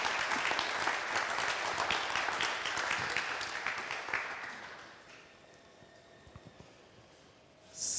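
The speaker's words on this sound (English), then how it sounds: "Let's give him a round of applause." A conference audience applauds after a keynote lecture, a dense, moderately loud wash of clapping that thins out and fades to quiet room tone about halfway through, with a brief louder noise at the very end.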